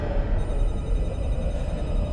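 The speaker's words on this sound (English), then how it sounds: "Shut up, phone!" A telephone rings in the video game Little Nightmares, a continuous, loud rattling bell that persists throughout amid a dense, noisy background.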